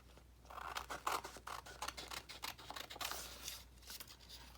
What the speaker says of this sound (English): So I just took paper scissors,